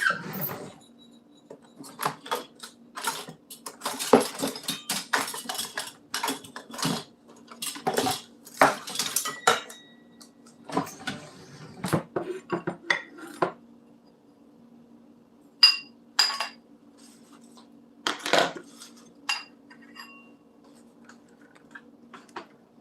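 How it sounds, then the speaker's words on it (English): An orange bowl and a metal ladle are picked up and handled at close range, giving scattered clinks, taps and scrapes in irregular bursts separated by quiet gaps, with no talking. "Grabbing a bowl and a ladle."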